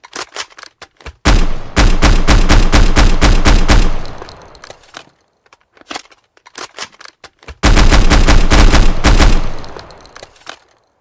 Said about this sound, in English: Full auto shotgun.